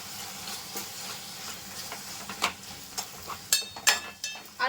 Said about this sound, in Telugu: ఇందులోనే కర్రీకి సరిపడా అల్లం వెల్లుల్లిపాయ పేస్ట్ వేస్తున్నాను.